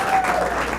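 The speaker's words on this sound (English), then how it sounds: "round of applause for our sketch team" Brief burst of audience applause at a sketch comedy student showcase, cheering the sketch class; dense, steady clapping fills the whole moment, close and fairly loud.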